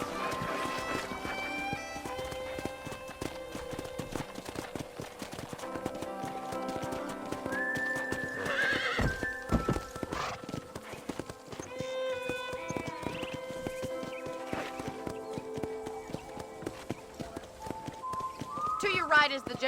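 Rhythmic hoofbeats clip-clop steadily as a horse gallops in the video game Red Dead Redemption, with an occasional whinny, layered over continuous background music.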